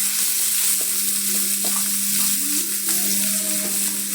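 Chopped onion and coconut frying in oil with popped mustard seeds, a loud close sizzle with occasional stirring scrapes in the pan and a low steady hum underneath, no talking.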